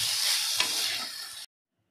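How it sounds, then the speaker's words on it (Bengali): Sweet coconut filling for pitha being scooped from a hot pan with the gas off, a brief, close hiss and sizzle lasting just over a second before cutting to silence. "এবার আমি নারকেলের পুরটা তুলে নিচ্ছি।"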